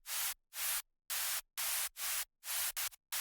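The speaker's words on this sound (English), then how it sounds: "as well as a white noise layer playing the same notes as the bass line" Bursts of bright white noise pulse in a rhythmic pattern, cutting on and off in short stabs like a synth line with no voice.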